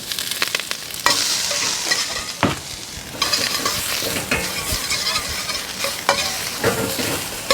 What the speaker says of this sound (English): Just throw the onions in there. Onions, peppers, garlic going in.